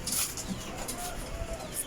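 Backyard chickens cluck in a small pen, with a few brief, moderately near calls over a busy outdoor background.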